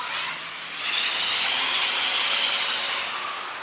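A car drives over wet pavement, a broad steady hiss of tyres on water that swells in the middle and fades slightly toward the end, with nothing else heard.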